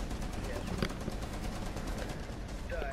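Rainbow Six Siege gunfire as steady rapid rattling shots throughout, dense and continuous, with players talking over it.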